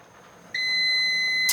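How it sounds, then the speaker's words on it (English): A kitchen timer goes off while homemade Tabasco-style hot sauce is being made, starting abruptly and holding as a loud, steady, high-pitched electronic beep. "there's our timer"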